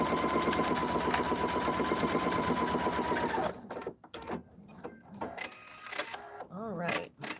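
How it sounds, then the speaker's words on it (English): A sewing machine runs steadily for about three seconds while top stitching along a zipper on a fabric project bag, then stops, leaving soft handling noises and a nearby voice talking. "And then we're going to top stitch again,"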